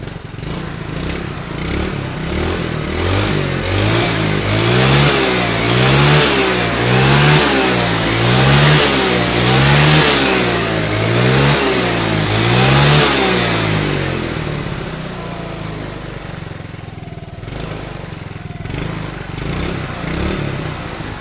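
A Yamaha Mio scooter that sputters on first throttle, burns too much fuel and lacks power revs loudly and close in a series of rising and falling throttle blips, then drops back toward a steadier idle near the end.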